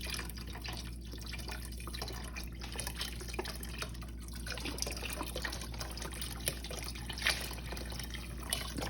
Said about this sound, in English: And then you're gonna pour in your chicken broth.